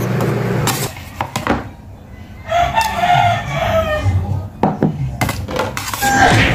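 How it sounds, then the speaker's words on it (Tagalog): Chickens and a rooster in a home cooking setting: the rooster crows loudly in a drawn-out call amid clucking, with kitchen clatter of utensils and dishes around it. "Pasensya na kayo sa mga manok, maraming manok dito."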